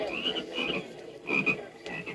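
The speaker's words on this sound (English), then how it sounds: "sad croaking from the frog children" Frog children croak sadly on a 1974 storybook record, a run of several close, rasping croaks in uneven bursts with short pauses between them.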